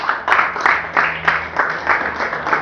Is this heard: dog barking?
no